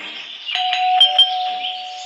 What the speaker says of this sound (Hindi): इसका डोरबेल भी बजता है।